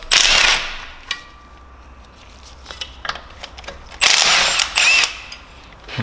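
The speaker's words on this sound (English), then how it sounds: "I'm just going to remove these two screws" Screws are removed from a part of a BMW S54 engine: short metallic ratcheting bursts near and loud, separated by quieter stretches with light clicks and taps of tools.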